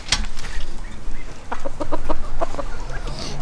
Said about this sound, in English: I have my most beautiful red mottled Ancona bantam hen